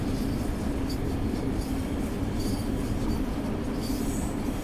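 A Long Island Rail Road train runs steadily in Train Sim World 4, giving a continuous loud rumble with faint wheel squeal and rail noise throughout, with no talking.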